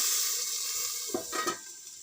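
Onions sautéing in the same oil used to fry chicken for a curry, a steady soft sizzle with a few brief stirring scrapes near the end, close and fairly quiet, no talk.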